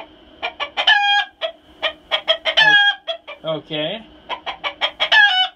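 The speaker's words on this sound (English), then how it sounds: "Chickies are happy in the summer, I tell you." Backyard chickens cluck in quick bursts near the listener, and a rooster crows partway through amid the chatter, while a person briefly speaks.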